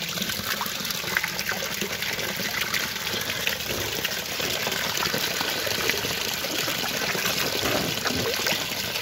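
Water pouring and trickling steadily throughout, a continuous close wash of liquid with no pauses and no voices.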